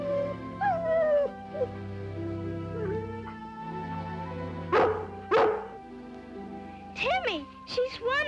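A dog barks a few sharp times and then lets out high rising whimpers in a classic family TV drama, close by and mixed with people talking.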